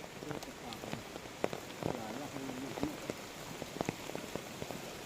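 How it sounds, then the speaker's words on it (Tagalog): Steady rain patters on surfaces with scattered drops tapping nearby, while a voice speaks faintly under the downpour. "Patak ng ulan."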